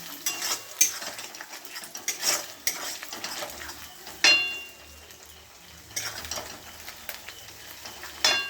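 Eggs cracked into a frying pan of vegetables, with soft sizzling and frying under intermittent clinks and scrapes of a utensil stirring against the pan.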